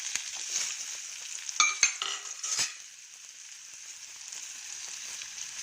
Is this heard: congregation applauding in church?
no